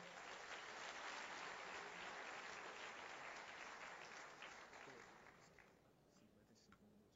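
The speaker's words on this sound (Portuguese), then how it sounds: "Vamos receber os nossos amados com um aplauso." A church congregation applauds to welcome two pastors, dense sustained clapping that fills the space, then gradually thins and fades toward the end.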